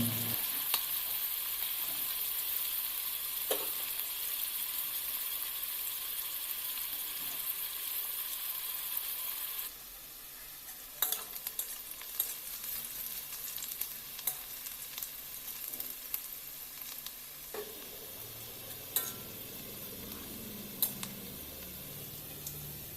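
Food fries in a pan on the stove, a constant hiss that softens partway through, with occasional spoon clicks and scrapes against the pan.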